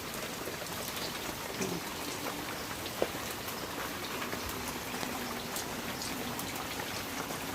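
Steady rain pours down continuously during flooding, a dense hiss of drops striking surfaces, with a single faint knock partway through.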